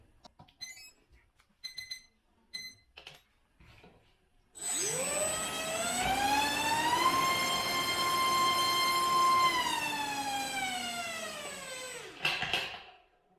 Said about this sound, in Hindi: तो अब मैं थ्रस्ट स्टार्ट करूंगा ये रेसर स्टार की मोटर के साथ।